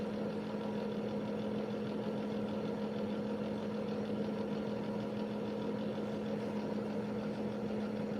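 Engine of the Cannabago motorhome running steadily at idle, a constant low hum with a strong tonal drone, close and even throughout with no talk.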